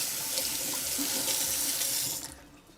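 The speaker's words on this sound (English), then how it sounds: "Let me wash my hands real quick" Hands being washed under a running kitchen tap, a steady, close rush of water that stops abruptly near the end.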